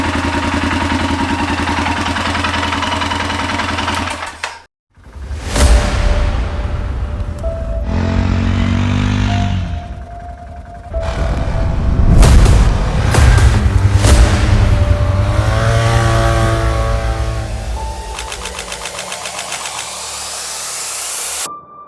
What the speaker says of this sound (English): this ATV is working now